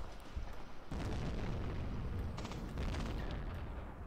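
Artillery and infantry guns firing in the war game Mius Front, a dense, continuous barrage of booms and cracks with a heavy blast near the one-second mark, loud and without talk.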